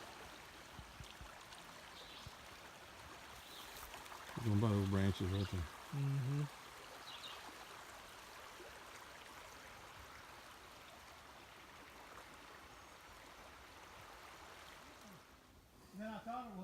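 Black Creek in DeSoto National Forest, Mississippi, runs fast in high water, giving a steady rushing wash. Voices talk briefly over it.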